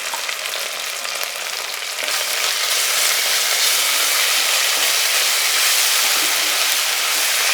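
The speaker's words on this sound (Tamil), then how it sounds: "இப்போ நல்லா எண்ணெயோட வெங்காயத்தோட நல்லா வதக்கி விடுங்க" Onions and ginger garlic paste sizzle in hot oil while being sautéed for mutton biryani, a steady loud frying hiss that grows fuller after a couple of seconds and continues without talk.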